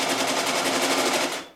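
A late-1980s Chaika-134 sewing machine running fast, its worn gear reducer producing a loud, even mechanical rattle throughout with no talk.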